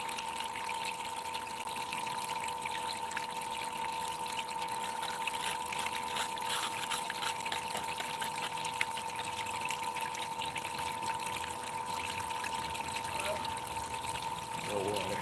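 Water runs steadily through a gold sluice fitted with riffles for a cleanup run, a continuous close trickling and pouring flow with no break, while talk is heard over it.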